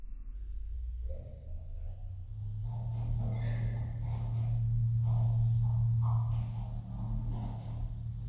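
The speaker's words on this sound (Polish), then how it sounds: "Kabina jedzie do góry." An elevator car rises inside a Roblox building with a low, steady motor hum that starts after a short click, swells and holds, with faint rattles over it, quiet and close.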